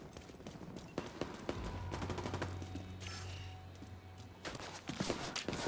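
Grenade launcher fire in The Division 2, sharp blasts and reports scattered through a busy firefight with footsteps and a low sustained rumble, several distinct bursts near the start and end.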